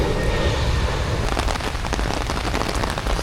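Steady rain falls on surfaces nearby, a dense continuous patter of drops with no pauses and no talking.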